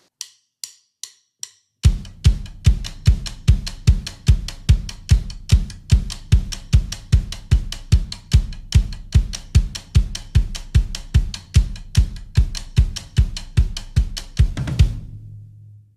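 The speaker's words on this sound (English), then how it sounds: "What I did was I kept 16th notes on my right hand and then played the clap rhythm with my left." Drum kit played with steady sixteenth notes on the right hand and a clap-rhythm pattern on the left, preceded by four clicked count-in beats; crisp, evenly spaced hits with accented strokes, ending in a sustained low ring.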